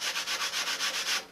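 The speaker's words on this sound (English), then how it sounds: "sanding and getting everything lined up" Rhythmic back-and-forth sanding strokes rasp steadily across the wooden turtle deck of a model control-line airplane, close and even, about seven strokes with no talking.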